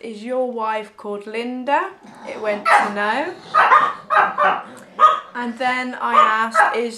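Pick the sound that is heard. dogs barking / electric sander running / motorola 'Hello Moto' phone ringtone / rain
dogs barking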